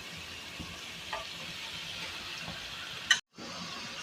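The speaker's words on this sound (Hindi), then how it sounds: "पाए हमारे भुज रहे हैं। अब मैं इसमें डाल रही हूँ 2 चम्मच दही" Goat trotters frying in a pot as yogurt goes in, a low continuous sizzle with faint stirring taps and a sudden sharp clatter near the end before a brief drop to silence.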